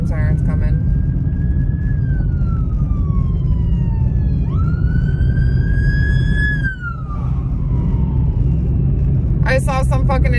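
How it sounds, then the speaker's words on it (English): An emergency siren wails past nearby, its pitch sweeping up and down over a steady low traffic rumble. "hold on, there's some sirens coming."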